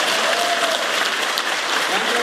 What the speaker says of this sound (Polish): a dajcie operatorowi brawa